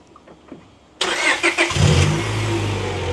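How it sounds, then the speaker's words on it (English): A 2001 Honda Prelude with an H22 VTEC engine cranks and fires up abruptly after quiet shuffling, then settles into a steady, loud idle close by. "We got to start the car."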